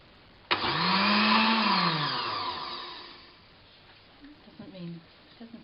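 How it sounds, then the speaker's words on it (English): A blender whirs through broccoli soup with milk, starting abruptly with a loud, high motor whine that rises slightly and then winds down, followed by faint handling noises. "I'm going to blend it."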